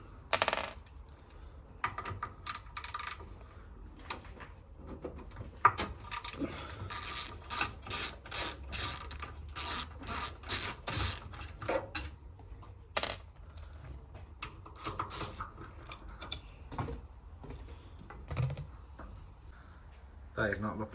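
An 8mm ratchet undoes the sump plate screws on an Ideal Icos boiler, making rapid clicking bursts that repeat in close, crisp runs over about twenty seconds, with someone speaking at times between them.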